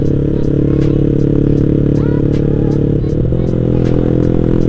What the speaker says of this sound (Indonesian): Suaranya lumayan lah kalau Proliner kayak gini.